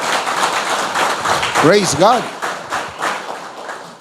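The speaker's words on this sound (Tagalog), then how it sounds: "Palakpakan natin si Lord." A church congregation claps in quick, rhythmic bursts while a voice calls out loudly over the applause.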